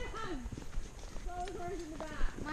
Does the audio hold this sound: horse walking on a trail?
yes